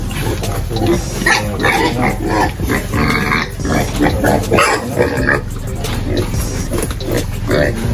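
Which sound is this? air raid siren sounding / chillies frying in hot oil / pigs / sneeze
pigs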